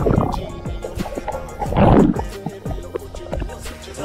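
Water gurgles and splashes as a waterproof camera goes under at Barvi Dam in Badlapur, a close, churning burst swelling in the middle between softer sloshing.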